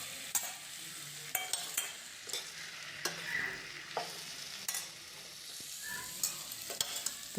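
Ginger and chili paste frying in a pan, a steady sizzle broken by repeated sharp scrapes and clicks of a spatula stirring against the metal, close and fairly loud.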